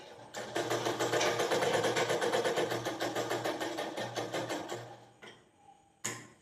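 An electric sewing machine runs a fast, steady stitching burst along a fabric edge for several seconds, slows with rhythmic pulses, then stops with a short final whir.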